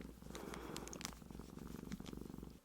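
A kitten purrs close up in a steady, rhythmic rumble with soft pulsing breaths, intimate and quiet, with a few faint clicks and no speech.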